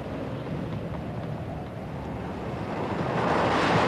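Sea waves and wind batter a boat far from shore, giving a steady rushing, wash-like roar that swells louder toward the end, with no voices.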